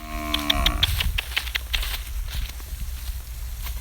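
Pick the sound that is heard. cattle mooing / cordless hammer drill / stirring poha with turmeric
cattle mooing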